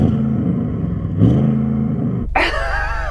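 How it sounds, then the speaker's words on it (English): An Audi RS6 engine idles with a deep, steady burble, then blips sharply into a loud rev that rises and falls quickly, heard close with no talking. "Okay, let's hear the Audi RS6."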